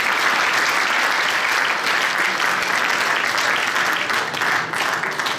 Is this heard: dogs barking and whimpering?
no